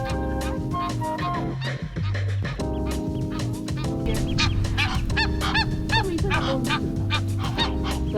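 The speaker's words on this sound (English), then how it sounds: "The geese seemed to be very aggressive and were chasing around the ducklings." Geese honk repeatedly and aggressively while chasing ducklings on a river, with loud, overlapping calls close by and a continuous low background rumble.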